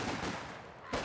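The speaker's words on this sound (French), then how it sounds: "Ah, le sniper qui a tiré." Sniper rifle fire in a competitive 1v1 video game match: sharp cracking shots, one at the start and another near the end, with a rumbling echo in between.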